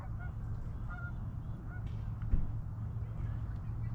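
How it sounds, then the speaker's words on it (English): Geese honk repeatedly at a lake in Calgary, several short calls scattered over a steady low outdoor rumble, moderately distant, with no talking. "Looks like the geese are enjoying it."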